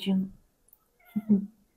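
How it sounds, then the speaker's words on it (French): A pet cat meowing indoors, two short close meows separated by a pause, fairly soft and alone. "bah oui, mon petit chat."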